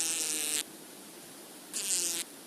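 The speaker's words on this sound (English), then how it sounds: "And also there is bees that produce lower pitches." A bee vibrating a flower to shake loose pollen gives a lower-pitched buzz, heard in two short bursts separated by a quiet gap, close and fairly loud.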